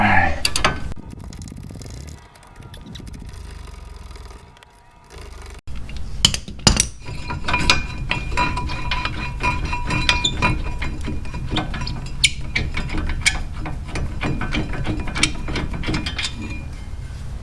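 Ratchet working loose 18mm front brake bolts on a 2001 Ford F150, a rapid clicking pawl rattle repeated in bursts with metallic clinks, close and clear.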